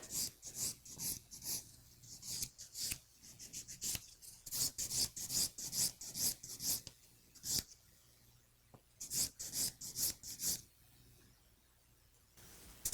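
A hand file rasps a square sculptured acrylic nail smooth around the cuticle and nail groove, giving quick, rhythmic scratchy strokes in bursts with short pauses, close and fairly soft.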